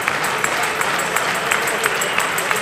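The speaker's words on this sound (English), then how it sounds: "So the hand clapping begins as we await game number 3." Audience at a table tennis match clapping steadily before game three, a dense patter of many hands under faint broadcast commentary, even in level throughout.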